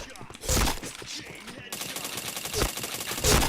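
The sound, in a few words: gunfire in a video game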